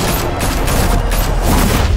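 Rapid gunfire in Batman: The Telltale Series video game: a loud, continuous volley of shots and booms rattling close by without pause.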